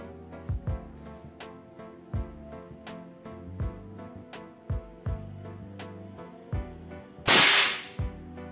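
Air rifle fired at a target, a series of sharp single cracks spaced a second or so apart, then a brief loud hissing burst near the end, close with no voices.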